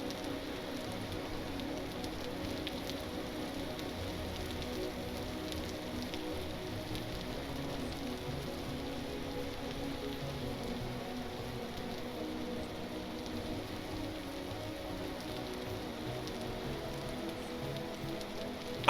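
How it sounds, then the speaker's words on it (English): Steady in-game rain in the survival game Vintage Story, a soft, even patter and hiss holding at low level for the whole stretch with no voices over it. "I feel like every time I go looking for bees, it frickin' rains on me, man."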